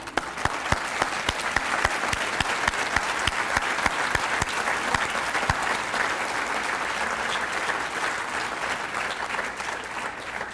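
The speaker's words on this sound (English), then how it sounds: "I would ask you to stand so we can applaud you." An audience at a school district event claps steadily and loudly for several seconds, a dense sustained round of applause with a few sharper claps standing out.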